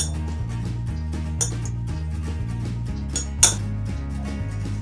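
Spoon stirring tomato paste into water in a dish to make a sauce, producing repeated light metallic clinks and scrapes at an uneven rhythm, with one sharper clink, over a steady low background hum.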